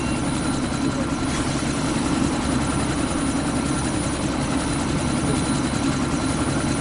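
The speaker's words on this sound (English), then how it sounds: "That chopper's about to take off!" A helicopter idles and runs up for takeoff in the game Deus Ex Mankind Divided, its rotor and engine forming a loud, steady, even drone with no talk over it.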